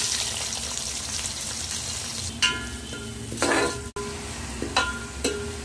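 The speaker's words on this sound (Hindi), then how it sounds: "प्याज को लाल होने तक पका लें" Onions fry in hot oil with whole garam masala, giving a loud, continuous sizzle close by. A few stirring scrapes and clinks sound over it.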